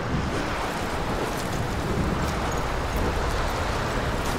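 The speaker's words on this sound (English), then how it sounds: "It's really windy." Steady, broad rushing wind noise from the game Tomb Raider, constant and fairly loud, with no voices.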